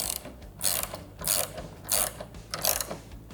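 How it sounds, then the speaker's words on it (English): A 17mm ratchet wrench cinching down a nut on an A-pillar light bracket of a 2021+ Ford F-150 during a Morimoto 4Banger install, heard as four separate bursts of rapid ratcheting clicks with short pauses between, close and clear without talk. "once it cinches down, you can use a 17mm wrench"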